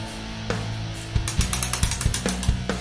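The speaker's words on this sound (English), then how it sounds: "because those bolts are long, we have to put the socket on here first, and then we put the ratchet on" A socket ratchet clicks in quick bursts while long bolts are tightened on a wobbly chair, with sharp, close pawl clicks in an uneven rhythm and no talk.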